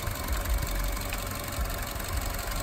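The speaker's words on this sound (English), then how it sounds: "we're gonna give it a little rev" A 1990s Ford F150 engine running with a low knocking rumble, steady and moderately loud, without a clear rev rise in this brief stretch.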